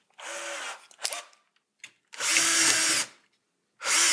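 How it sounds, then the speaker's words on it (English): A power drill bores out holes in three loud bursts of steady whining, with a short clatter between the first two and a brief blip before the second long run. "So go ahead and drill these out."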